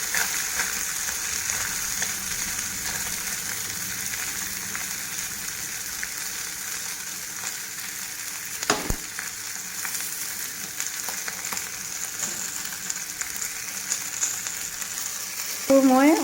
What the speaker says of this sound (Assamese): একেলগে অলপ সময় ভাজিম ভালকৈ, তিল আৰু জলকীয়া মাছৰ লগত।